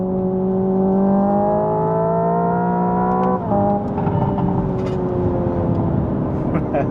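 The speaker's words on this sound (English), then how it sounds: "So there's me dropping down a gear." Hyundai Ioniq 5 N electric car with its synthetic engine sound, a steady droning tone that breaks sharply midway as a simulated gear downshift drops the pitch, then climbs again, loud and close inside the cabin.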